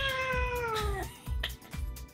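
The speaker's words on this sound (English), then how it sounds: "A cat sounds like this." A cat meow played by a smart speaker, a few meows through its small speaker, with a long drawn-out meow followed by shorter ones.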